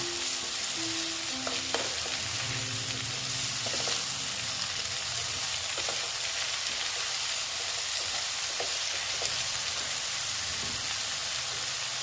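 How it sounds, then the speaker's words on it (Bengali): Salted eggplant and potato fry in a pan for Bengali bata fish curry, a continuous crackling sizzle with scattered stirring scrapes and faint tonal background sounds early on, no voices. "দিয়ে আবার আমি একটু ভেজে নিচ্ছি"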